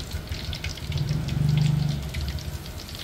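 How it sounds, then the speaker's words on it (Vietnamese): Clown knifefish cakes fry in hot oil for crab noodle soup at a sidewalk food cart, giving a steady crackling sizzle with a low humming swell in the middle, with no talking. "Chiên chả cá hát lát nấu bánh canh cua nha các bạn"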